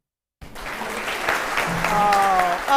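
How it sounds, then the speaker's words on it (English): A crowd breaks into applause after a brief silence, clapping building steadily, with a voice briefly audible over it. "Applause for Rahm. Applause for Rahm."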